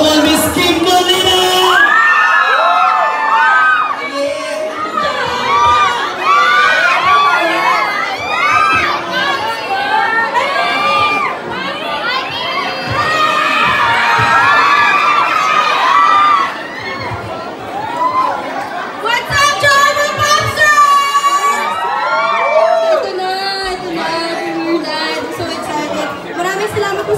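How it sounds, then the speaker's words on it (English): A large crowd of fans cheers, whoops and shouts continuously at a movie premiere inside a shopping mall, loud and sustained, with excited children's voices and chatter mixed in throughout. "Make some noise for Mr. Gerald Napoles at ang nag-iisang jowa ni Miss Kim Molina!"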